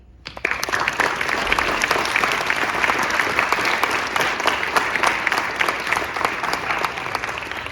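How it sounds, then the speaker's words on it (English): Students and guests at a school Veterans Day assembly break into applause for the participating veterans, a sudden start followed by steady, crisp clapping from a big crowd in a large hall that goes on for several seconds. "Let's give one last round of applause to all the veterans who participated in making this assembly."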